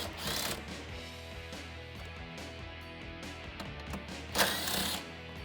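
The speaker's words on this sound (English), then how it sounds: "Now I'm going to take my 8mm socket and remove the 2 8mm screws on the bottom of the grille" 8mm socket ratchet backing out grille screws on a 2018-2020 Ford F150, a close run of quick, dense clicking and mechanical rattling with a couple of louder scraping bursts, no talk.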